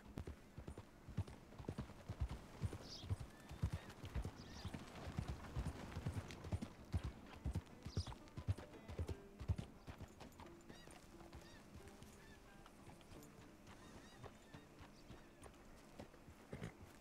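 Steady clip-clop of horse hooves at a walking pace, fairly close, with a brief whinny early on and Red Dead Redemption 2 game ambience underneath.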